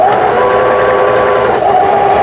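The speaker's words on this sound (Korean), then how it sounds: "아주 조용하게 바느질이 잘 되는 걸 보실 수가 있습니다." A Singer 7422 household sewing machine stitches steadily and quietly, its motor and needle running in a continuous close whir with no talk over it.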